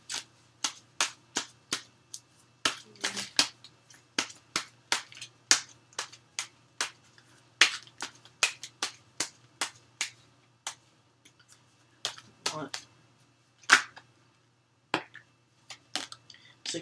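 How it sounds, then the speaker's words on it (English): Tarot cards being shuffled by hand give a quick series of crisp, sharp riffles and flicks, fairly close and irregular in rhythm, with brief pauses between bursts. "A few more shuffles."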